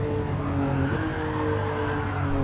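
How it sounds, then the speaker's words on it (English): A Ferrari Dino slides through a corner on the Sardegna circuit in Gran Turismo 7, its engine droning loudly with a continuous tire squeal and skid throughout, close and alone. "The car slides, doesn't it?"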